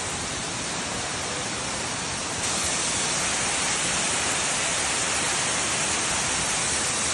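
Waterfalls at Qabala pour in a loud, unbroken roar of rushing water that swells noticeably a couple of seconds in, then holds steady and close with no voices.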